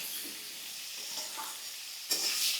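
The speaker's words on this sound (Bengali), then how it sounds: "এরকমভাবে ভালো করে এটাকে ভাজতে হবে।" Mixed vegetables fry in a pan for pui shak labra, a quiet steady sizzle with faint stirring scrapes, then a sudden louder burst of hissing near the end.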